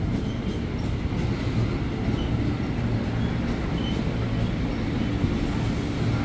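Commuter train rolling into Tanah Abang station in Jakarta, a steady loud rumble of wheels and carriages with faint squeal, close and continuous with no speech.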